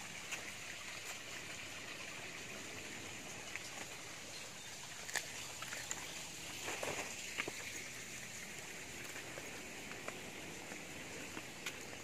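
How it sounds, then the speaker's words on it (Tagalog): Water flows and trickles among hard white rocks by the seaside, a steady faint rushing with scattered small drips and splashes, no voices. "Ito may tubig na maagos."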